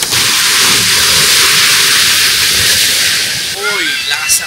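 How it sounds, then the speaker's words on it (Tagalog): Strong sea waves crash and surge in a steady, loud broadband wash, with a brief voice rising near the end. "Uy, lakas ng alon."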